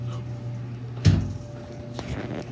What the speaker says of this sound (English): the door, it just freaking closed